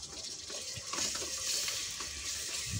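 Tomatoes and onions frying in a pan, a steady close sizzle with faint scraping stirs throughout, no talking.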